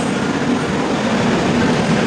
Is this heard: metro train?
yes